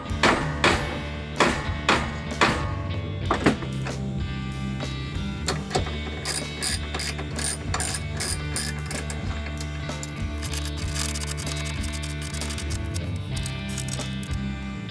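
A power wrench works bolts loose on a 2x72 horizontal and vertical belt grinder being built, giving short rattling bursts in a quick, uneven series close to the microphone.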